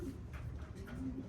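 Racing pigeons coo softly inside a delivery box, giving a short, low, muffled burble at close range that is quiet under background noise.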